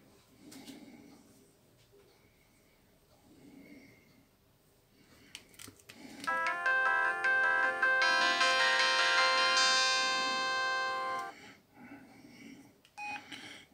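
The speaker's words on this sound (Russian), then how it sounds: "Но видите, он уже включился с мелодией." A mobile phone plays its startup melody as it powers on after a failed unlock and possible firmware fault, a loud sustained electronic tune running for several seconds between quieter background noise.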